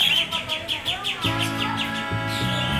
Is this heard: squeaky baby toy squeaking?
no